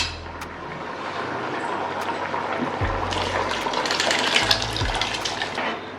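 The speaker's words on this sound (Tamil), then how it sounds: "இப்போ மட்டனையும் பருப்பு நம்ம உள்ளே சேர்த்தியாச்சுங்க" Cooked mutton and lentils slide and splash into a pot for mutton dalcha, a wet, gushing pour that swells in the middle and carries on steadily. No one speaks.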